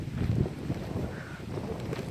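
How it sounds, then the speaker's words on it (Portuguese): Steady wind buffets the microphone in low, rumbling gusts, continuous throughout with no talking. "Porque esse dia tá ventando."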